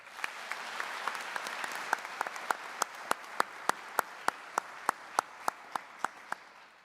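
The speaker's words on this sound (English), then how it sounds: "Let's give them a nice round of applause" Audience in a school auditorium at a Veterans Day ceremony applauding a jazz orchestra. It starts as a soft patter, then settles into sharp, evenly spaced single claps that ring out clearly over a quieter crowd.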